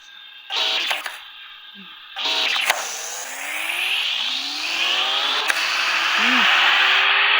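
A car speeds along at high speed, its engine note rising in long swelling sweeps and whooshes with loud bursts at the start, building to a sustained roar toward the end.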